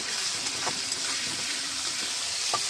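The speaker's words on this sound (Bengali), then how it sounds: "ভালোভাবে ভেজে নিতে হবে, একটু লাল করে, হালকা লাল করে।" Shrimp frying in a pan until lightly browned, with a steady broadband sizzle running throughout and a few faint clinks of stirring, no voices.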